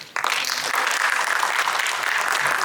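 An audience at a talk on entrepreneurial skills breaks into sustained, dense applause that starts abruptly and holds steady at full volume throughout.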